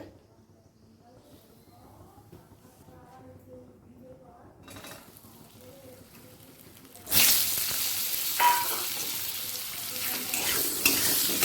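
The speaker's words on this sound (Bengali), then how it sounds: "ওই একই তেলে আমি আলুটাও ভেজে নেব" Potato pieces with turmeric hit hot oil in a kadai with a sudden loud sizzle that continues steadily and close by, after a quieter stretch where someone talks with faint kitchen sounds.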